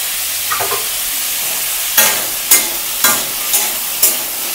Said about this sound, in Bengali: কালো জিরে ফোড়ন দিয়ে বসিয়ে দিলাম